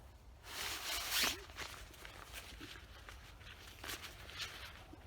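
Zipper pulled open on a woven polyester pack holding a four-season sleep pad, one rasping zip early on, then rustling and handling of fabric as the pad comes out, close and fairly quiet, no talking.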